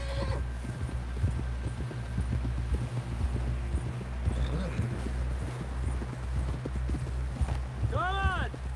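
Horse hooves clip-clop in the video game Red Dead Redemption, a steady walking rhythm over a low droning background with voices talking, and a whinny near the end.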